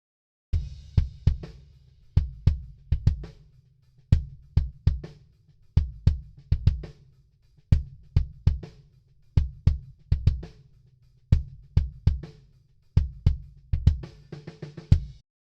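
Drum kit heard through a microphone set outside the kick drum, a repeating groove of deep, round kick thumps with softer snare and cymbal hits on top, close and loud, no talking.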